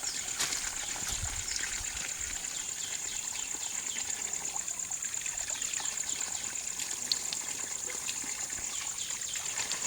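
Holy water trickles and flows steadily at a village shrine near a Shiva temple, a continuous close babble with insects chirping faintly in the background.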